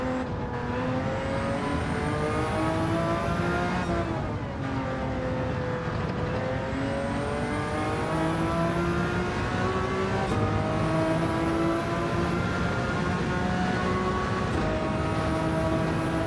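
A twin-turbo 7-liter V12 in a racing game holds a loud, continuous engine whine that climbs in pitch through the gears, with sharp drops at each shift.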